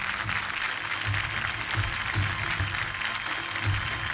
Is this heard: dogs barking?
no